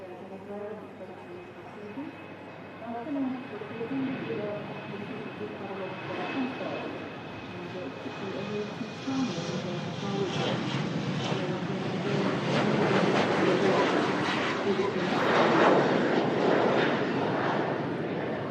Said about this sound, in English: There goes the Finnair, Embraer, heading off 23 right from Manchester Airport.